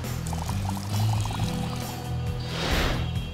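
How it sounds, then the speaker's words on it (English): Water pours into a bucket of sand in the Miss Hollywood mobile game, a steady splashing stream that runs for a few seconds and ends with a brief bubbly gurgle. "Pour in the water to get the sand nice and sticky."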